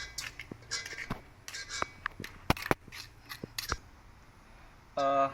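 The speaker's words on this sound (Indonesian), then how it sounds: "Baru kita aduk kembali." Scattered clinks and scraping of a spoon stirring a tofu dish with soy sauce in a bowl, irregular and close, followed by a brief sizzle or hiss at the end.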